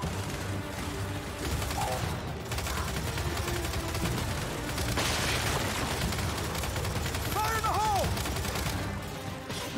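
Dense gunfire and bursts of shots from the Glitch of War 5 game on insane difficulty, a steady chaotic barrage with booms and crashes under low voices.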